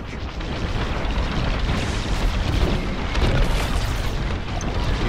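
A cruiser explodes in the Star Wars Squadrons space combat game, a dense, loud, sustained rumbling roar that fills the whole stretch without letting up.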